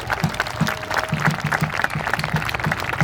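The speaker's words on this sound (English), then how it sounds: "let's give all these folks a round of applause" Outdoor crowd at a French and Indian War reenactment at a fort applauds the reenactors in steady clapping, with a rhythmic low thumping and faint voices mixed in.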